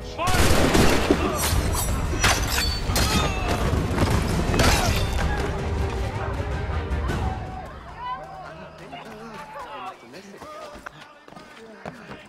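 Soldiers in Assassin's Creed III fire a ragged volley of musket gunfire, many close, loud cracks clustered over several seconds, then a fading rumble and quieter game ambience with a voice nearby.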